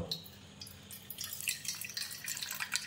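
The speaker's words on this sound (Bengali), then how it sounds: "এই দেখো এই পরিমাণে জলটা দিলাম আমি" Water trickles and drips into an empty bowl while preparing egg bhujia, a faint, uneven splashing that grows more active after the first second, with no talking over it.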